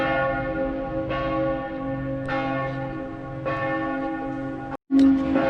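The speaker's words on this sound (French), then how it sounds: "Avec le son des cloches en plus," Church bells ring in Luxembourg with sustained, rich tones, fresh strikes landing about every 1.2 seconds over a lingering hum, close and loud, before a brief cutoff and a final louder strike.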